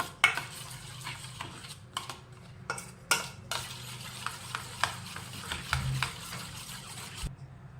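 A spoon stirs cooled milk into a fenugreek ladoo mixture, making repeated close clinks and scrapes against the vessel over a low background hum, with no talking.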